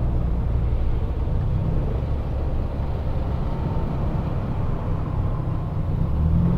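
Road traffic in La Trinidad, Benguet, where roadwork slows the flow, heard as a steady low engine rumble from inside a vehicle, continuous and even without distinct passes.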